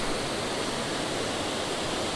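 A creek waterfall rushes in a steady, dense wash of white noise, constant and fairly close, with no other sounds breaking through.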